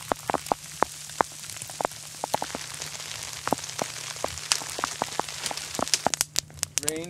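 Steady rain patters down with scattered sharp drops striking a surface nearby, a continuous hiss underneath and no voices, outdoors in bighorn sheep hunting country.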